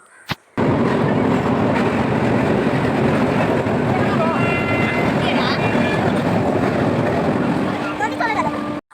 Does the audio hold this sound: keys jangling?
no